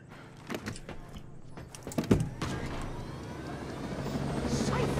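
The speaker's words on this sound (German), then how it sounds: "Dann haben wir ein Heli." A helicopter in a first-person video game sounds as a low, broadband rotor and engine rumble that grows steadily louder. A few sharp knocks sound near the start, and a muffled voice talks underneath.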